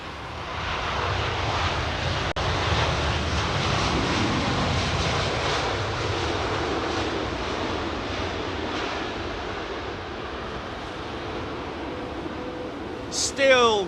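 Jet airliners arrive and depart at London Heathrow Airport, a loud sustained engine roar that swells and slowly fades over several seconds, with a brief sharp click early on and a short burst of noise at the end.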